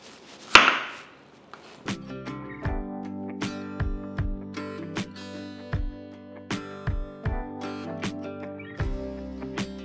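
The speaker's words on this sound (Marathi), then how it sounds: "कैरी स्वच्छ धुवून मग तिला चिरायचं अशा पद्धतीने" Raw mangoes being chopped into slices on a board, a steady series of sharp knife knocks after a brief rustle, close and clear with no talking.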